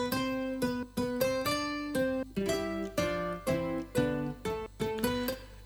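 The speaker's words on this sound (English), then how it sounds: "classic nylon Quartet Studio. It sounds like this." Sampled classic nylon-string acoustic guitar from the Omnisphere Quartet Studio library plays a sequence of plucked chords and notes with clear decays, steady and close, with no talking over it.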